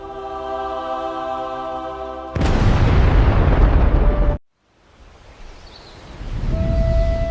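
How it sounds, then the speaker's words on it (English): A magical flute note bursts into an enormous explosion in an animated story, a sudden loud broadband blast that holds for about two seconds and cuts off, with a quieter rumble swelling back afterward. "one enormous note exploded into the sky"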